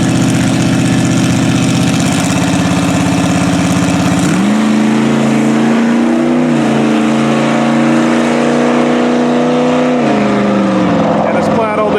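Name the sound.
Tesla Plaid drag racing against a drag truck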